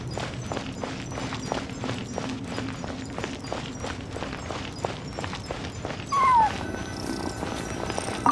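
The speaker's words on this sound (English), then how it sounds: "I followed the cat's cries to find my way out" A short, mewing cat cry rises briefly from the Genshin Impact game world over a steady run of rhythmic footsteps and soft ambient background.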